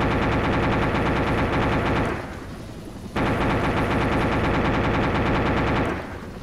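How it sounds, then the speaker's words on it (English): Sustained helicopter gunfire in Arma 2 from an AH-1W Cobra, loud and close, rattling in a dense continuous burst for about two seconds, a brief pause, then another long burst, with no talking. "Opening fire."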